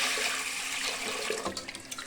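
Water splashing and swirling as lentils are rinsed in a kitchen, a steady close rush that breaks into a few separate sloshes near the end.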